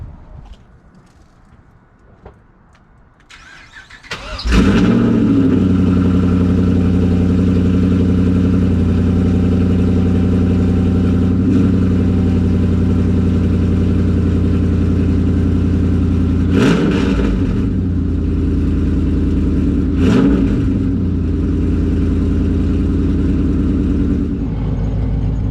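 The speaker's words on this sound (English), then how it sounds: "Got the Trans Am fired up, letting it warm up." A Pontiac Trans Am engine cranks and catches after a few quiet seconds, then settles into a loud, steady idle as it warms up, with a few brief blips in the running.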